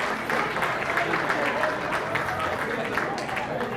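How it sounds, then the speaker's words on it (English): Applause for a family dance at a wedding reception, heard as steady, dense clapping from a crowd filling the room at an even loudness throughout. "Another round of applause for the Saxena family dance."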